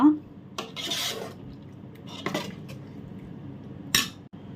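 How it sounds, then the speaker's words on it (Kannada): Marinated mutton being stirred in a metal pot for biryani, with scraping and clinking of a spoon against the pot in a few separate bursts, fairly close and moderately loud, no talking. "ಈಗ ಇದಕ್ಕೆ ಮ್ಯಾರಿನೇಟ್ ಮಾಡಿಟ್ಟ ಮಟನ್ ಅನ್ನು ಕೂಡ ಹಾಕಿ ಬಿಡುವ ಈಗ ಚೆನ್ನಾಗಿ ಒಂದು ಮಿಕ್ಸ್ ಕೊಡುವ"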